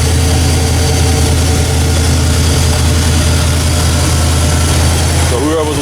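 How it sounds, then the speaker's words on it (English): A Thunderbird 5.0 V8 engine idles steadily in the bay, a constant low rumble that runs close and loud throughout with no pauses. "there's the engine, there's the heart"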